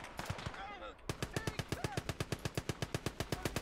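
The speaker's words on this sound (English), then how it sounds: "MG's tearing it up." Rapid machine gun fire in the WWII strategy game Gates of Hell, a steady run of evenly spaced loud bursts after a brief jumble of other battle noise, with players talking over it.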